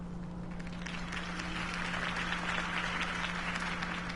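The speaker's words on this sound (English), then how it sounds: "could have heard that applause" Steady applause from a large crowd in the video game Batman: The Telltale Series, quiet and even throughout, with a low constant hum underneath.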